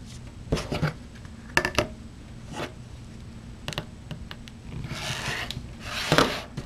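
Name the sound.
cutting stacked quilt template pieces with a ruler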